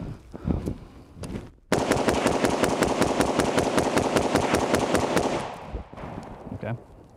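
A PSA JAKL rifle fires a rapid string of roughly twenty sharp shots in fast, even succession, loud and close, with people talking before and after the burst.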